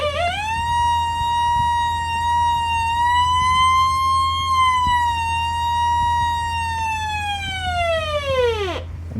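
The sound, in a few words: weather radio siren test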